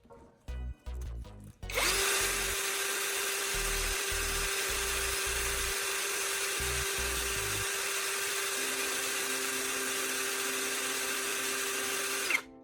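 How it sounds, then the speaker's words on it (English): A power drill spins a carbon rod while sandpaper is held against its end to sharpen it, a few short taps and bursts followed by a steady, loud, high whine that runs for about ten seconds. "I'm loading the carbon rod into the drill and using a piece of sandpaper to meticulously sharpen the"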